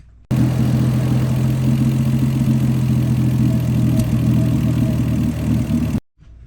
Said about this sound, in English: as the engine is running through the exhaust, you'll every now and again hear like a slight pop or burble noise that just happens at idle